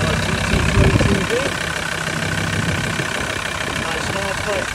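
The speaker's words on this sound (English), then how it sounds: "There it is, the engine, just about to see the turbo as well, by GT32D." A tuned TDI diesel car engine with a GT32D turbo and a 250 bhp kit idles steadily with a low, even rumble, while someone talks over it for most of the stretch.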